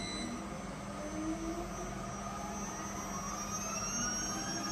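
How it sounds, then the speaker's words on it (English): An electric motor on a 10-meter city bus, fitted with a 290 kW, 3400 Nm EV conversion kit, runs with a steady, fairly loud mechanical hum and tonal whine throughout. "If I press the air accelerator, the motor is running."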